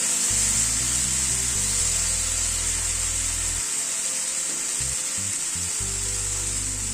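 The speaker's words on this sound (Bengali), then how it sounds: "আরো প্রায় মিনিট 2 মতো ঝিঙেটাকে নাড়াচাড়া করে নিলাম।" Ridge gourd fries in a pan while being stirred, producing a loud, steady sizzle with a continuous hiss and occasional scraping underneath, close up and without speech.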